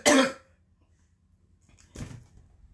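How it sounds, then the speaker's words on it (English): One loud, harsh cough close by, then a quieter rough cough or throat-clearing after a short silence. "I got a cough"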